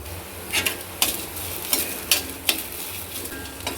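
Sesame seeds and seedless tamarind dry-roasting in a pan for curry leaf powder, with a steady soft crackle and a run of scraping stirs at a regular rhythm, close and fairly quiet.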